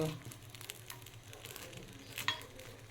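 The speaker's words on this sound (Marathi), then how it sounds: "तुम्ही चमच्याने पण असे पलटी मारून घेऊ शकता" Mixed dal and rice appe sizzle quietly in an appe pan as a spoon turns them over. A steady low fry carries soft scrapes and a brief brighter clink near the end.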